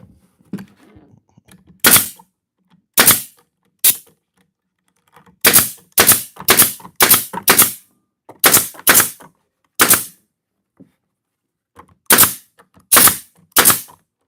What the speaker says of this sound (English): I hope this air gun ain't too loud for y'all.